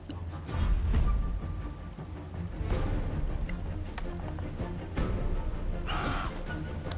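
A crow caws in the fantasy role-playing video game Solasta: a few short, scattered calls over a low, steady background of game ambience, moderately faint.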